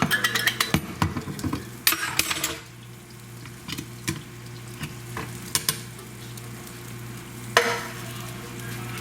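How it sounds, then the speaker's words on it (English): Diced tomatoes cooking in a pan for homemade tacos, opening with a burst of sharp clatters and spatula knocks, then a steady sizzle with occasional scrapes and taps, close by and without speech. "And I'm gonna put my diced tomatoes."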